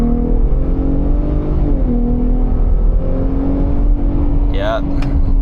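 Gen 3 Ford Raptor pulls hard from second gear, its loud exhaust rising and then settling after a shift, with a brief whine near the end.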